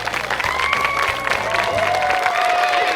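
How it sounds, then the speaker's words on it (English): Applause and crowd noise from an audience at an orchard opening event honoring Common Vision, steady clapping and murmuring with sustained tonal sounds riding over it. "Give a big round of applause for Common Vision."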